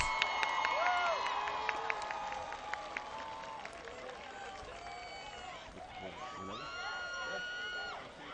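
A crowd at a high school football game applauds and cheers for the homecoming court, with scattered shouts and whistles, a continuous wash of clapping and voices that gradually fades.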